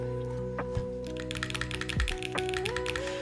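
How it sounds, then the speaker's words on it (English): Keys and spacebar on an OG60 mechanical keyboard being typed on, a few close, sharp clacks and taps over a steady background hum with tonal notes, no talk. "I hate it every time when I hear the fun spacebars like this one."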